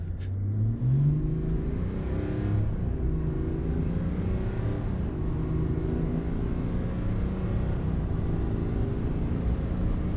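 A 2021 Chevrolet Silverado 1500 RST diesel pickup accelerates from 0 to 60 at full throttle, its engine building into a steady, deep, rising drone that holds for several seconds.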